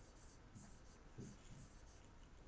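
Pen or pencil scratches on paper while working a math ratio problem, coming in short bursts of quick strokes with brief pauses, faint and close, with a soft low murmur of voice in places.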